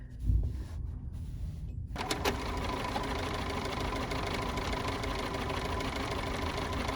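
A small Bernina sewing machine motor starts up after a couple of quiet seconds and runs steadily with a fast, even mechanical chatter until the end.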